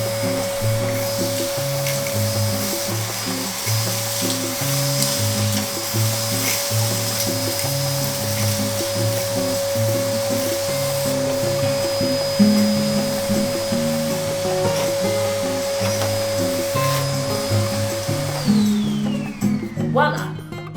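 A Pellvac Virvelvind ash vacuum sucks up ash with a steady loud whine and airflow roar, holding a constant tone before the motor cuts off and winds down near the end.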